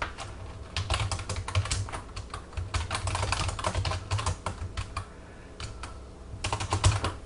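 Rapid bursts of computer keyboard typing, close and clear, with dense key clicks and brief pauses between runs over about seven seconds.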